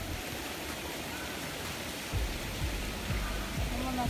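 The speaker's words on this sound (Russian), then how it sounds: "Вон океан." Steady broadband wash of ocean surf on a beach during a family holiday, a constant roar with slightly louder low swells in the second half and no speech.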